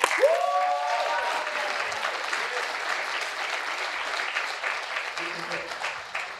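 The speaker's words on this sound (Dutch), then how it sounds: "alsof deze zaal met 2000 mensen vol zit, met een ovationeel applaus gaan verwelkomen" Audience applause welcoming a speaker at the opening program of the Amsterdam neighborhood film festival, a steady wash of clapping that runs throughout, with a brief tonal musical sting at the start.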